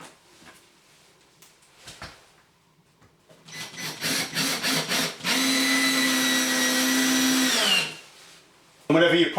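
A power drill whirs in short bursts, then runs in one long steady whine as a screw drives into plywood floor lining, before stopping; faint talk follows.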